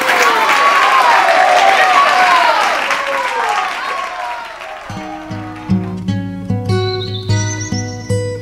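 A TV show studio audience applauds with cheers for several seconds, fading out as music with a steady beat enters.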